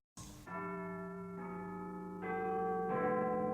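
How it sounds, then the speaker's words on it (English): A church bell rings at midnight in a foggy town: a struck tone followed by several sustained, ringing strikes that overlap into a rich, humming resonance, fairly close and with no other sounds. "Then he heard a church bell ringing."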